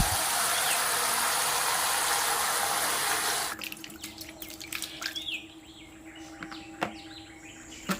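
An aloe vera leaf is rinsed under a running kitchen tap. A steady loud gush of water pours for a few seconds, then stops and gives way to quieter splashes, drips and handling sounds nearby.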